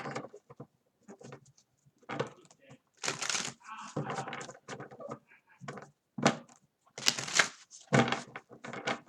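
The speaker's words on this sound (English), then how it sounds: "Now I'm going to do couple of shuffles of my Jane Austen deck." A Jane Austen tarot deck is shuffled in several bursts of crisp riffling and flicking, close by, with short quiet gaps between them.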